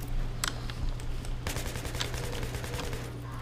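Rapid automatic gunfire crackles in steady bursts over a low hum in a Battlefield 3 campaign battle, at mid distance and fairly loud, with no talking.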